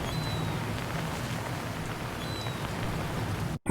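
Steady, dense rain in a video game pours without a break, an even hiss of drops that cuts out abruptly just before the end.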